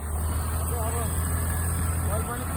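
A scooter's engine drones steadily as it labours up a steep, foggy hill road, a low, constant hum that stays at one level beneath a person talking.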